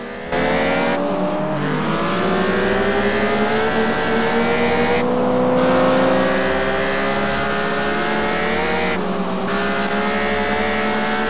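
Race cars roar through an event race in the Test Drive Unlimited video game, loud sustained engine whine with revving pitch shifts and periodic gear-change dips, continuous throughout with no talk.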